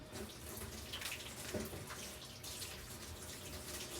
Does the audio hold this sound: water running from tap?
yes